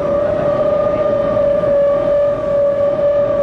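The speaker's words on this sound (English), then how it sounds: "The siren's wail sends New York's inhabitants to shelter." Civil defense air raid siren during a daylight atom bomb drill in New York's Times Square, a loud sustained tonal wail holding steady pitch, continuous throughout.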